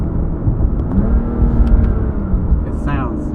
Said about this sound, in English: Right now I've got it in Sport Plus mode for the engine, so it's got all of the valves open.